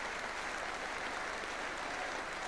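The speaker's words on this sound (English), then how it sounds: "as Leeds get generous applause, all sympathy for the losing side in any final" Stadium crowd applauding the Leeds rugby league side after the 1983 John Player Trophy final against Wigan, a steady, distant wash of clapping heard through an old, thin broadcast recording.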